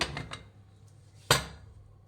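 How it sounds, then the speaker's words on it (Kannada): Small kitchen taps, then one sharp, close metallic clank as a cooled pressure cooker lid is opened after cooking lima bean rice bath, followed by a fading ring. "ಲಿಡ್ ಓಪನ್ ಮಾಡೋಣ."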